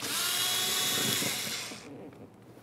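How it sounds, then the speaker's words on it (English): An 8mm socket on a power tool whirs steadily while removing a door mounting bolt on a 2006-2012 Ford Fusion, then winds down and stops. "Now we'll use our 8mm and remove the mounting bolt behind this area."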